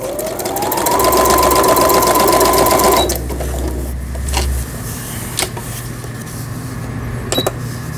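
A Brother Chariot 550 domestic sewing machine running a straight stitch, a steady fast mechanical whir and clatter for about three seconds, then stopping, leaving quiet room tone with a few faint clicks.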